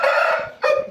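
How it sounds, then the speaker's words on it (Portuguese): A bearded white rooster of a special line crows loudly and close by, holding a long call, then gives a short burst of clucking after a brief pause. "Bonito galo, gostei do galo, Moisés."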